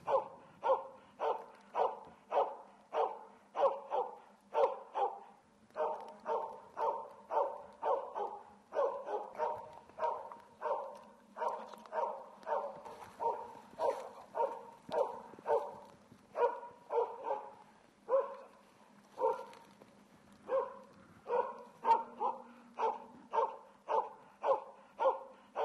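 An elk hunting dog holds a cow, calf and bull elk at bay, barking in quick, steady bursts, loud and close, continuing almost without pause.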